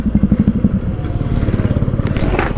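A Bajaj Pulsar NS 200 motorcycle rides along a highway, its engine giving a steady, close, pulsing drone with rhythmic throbbing throughout, while wind noise rushes over the sound.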